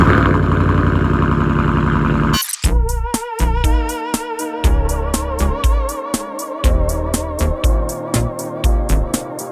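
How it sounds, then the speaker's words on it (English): A 2018 Ford F-150 pickup with a Borla exhaust fires up from a cold start, bursting loudly and close, then settles into a pulsing, uneven idle with no talking. "a video of a cold start on a 2018 F-150, which has a Borla exhaust"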